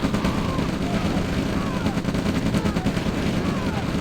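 Rapid machine gun fire crackles through a busy Red Alert multiplayer battle, dense and continuous with layered explosions and game effects, while someone talks over it.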